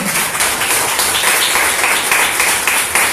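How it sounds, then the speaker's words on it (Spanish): A church congregation applauds together during a worship service, a broad, sustained wash of clapping that stays even and loud without a break. "Denle un aplauso."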